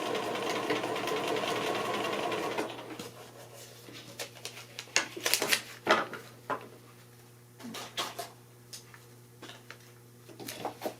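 A sewing machine runs steadily for a few seconds, stitching paper piecing along the edge of a quilt block, then stops. Scattered clicks, taps and handling noises follow over a low steady hum.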